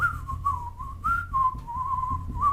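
Melodic whistling by one person, a steady tune of sustained notes and short slides, moderately loud and close with a faint low background hum and no talking.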